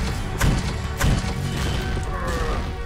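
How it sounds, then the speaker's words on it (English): Grenade blasts strike armored enemies in Quake, giving two heavy, close thuds about half a second apart over a steady bed of game noise, with no talking. "I can hear the sound of the armor shaking when they get hit by grenades"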